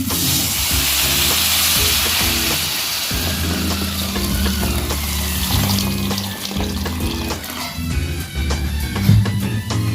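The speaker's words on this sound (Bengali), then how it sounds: "এর মধ্যে আমি জল অ্যাড করব।" Water poured into a pan of cooked-down spice masala for a bottle gourd and prawn curry, a loud, continuous rushing splash with crackling sizzle that settles slightly toward the end.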